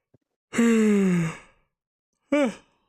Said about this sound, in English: I'm yawning like crazy.